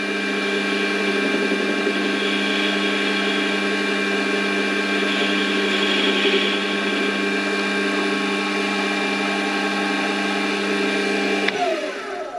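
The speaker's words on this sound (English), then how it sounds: "And that is turning to a shoulder." A mini lathe turns aluminium down to a shoulder, giving a steady, loud mechanical whine with a tonal hum throughout, then a quick change in tone near the end as the cut stops.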